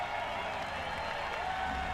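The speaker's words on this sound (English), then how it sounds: "He absolutely loves that and thoroughly deserves the applause" Crowd applause and cheering for MotoGP winner Dovizioso at the 2019 Austrian Grand Prix, a steady, distant wash of clapping and crowd noise that holds evenly throughout.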